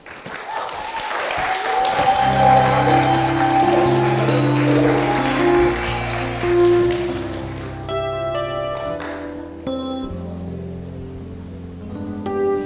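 Sustained applause fills the hall for the graduating class at a preparatory school graduation and prize-giving ceremony, with sustained tonal music layered beneath and rising into a louder passage toward the end.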